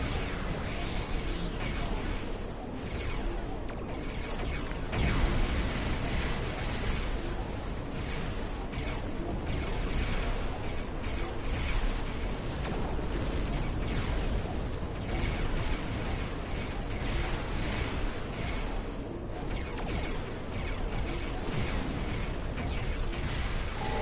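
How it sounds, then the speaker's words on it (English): Disruptor cannon fire striking a ship in a Star Trek space combat game, a dense, continuous rumble of blasts and bursts, loud and sustained throughout with no clear pauses. "Those disruptor cannons do a lot more damage, especially when they hit their target."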